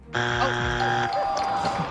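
A game show buzzer on a live talk-radio quiz, one loud, harsh electronic tone lasting about a second, followed by a brief jumble of sound.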